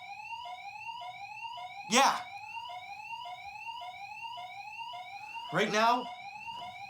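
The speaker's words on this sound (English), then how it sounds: "I can't hear you with the alarm going off again" An electronic alarm going off in the small hours, a repeating rising tone sounding in steady cycles, with a person talking over it briefly twice.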